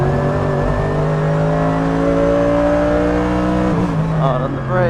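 Mercedes AMG GT3 race car at full power on the Donington GP circuit, a loud, close engine holding a steady high drone, then a quick gear shift and a pitch change near the end, with talk over it.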